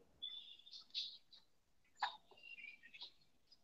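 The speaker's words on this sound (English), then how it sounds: "plays sounds of birds and other animals that are extinct or endangered" Faint high-pitched recorded calls of extinct or endangered birds chirp and whistle sporadically, sounding like a soft recording played at a distance.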